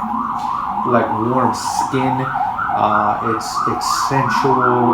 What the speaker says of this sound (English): I'm sorry about the sirens, guys. This is just New York.